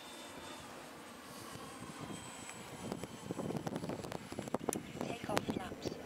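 Freewing A-10 Thunderbolt II twin 80mm EDF radio-controlled jet flying in, a faint distant whine at first that grows louder, with wind buffeting the microphone and someone talking over it.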